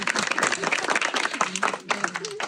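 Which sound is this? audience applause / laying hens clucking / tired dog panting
audience applause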